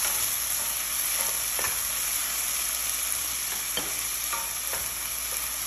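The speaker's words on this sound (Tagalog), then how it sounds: "Mix ko na siya ng konti." Onion and tomato with tomato paste fry in a pan for a Filipino tuna dish, a steady sizzle with faint scraping of stirring strokes throughout.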